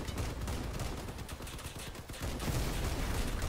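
Heavy cannon fire in the vehicle combat game Crossout, a dense, continuous volley of rapid booming shots with steady loud rumble throughout, no speech.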